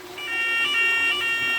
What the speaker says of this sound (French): Et donc mon alarme fonctionne.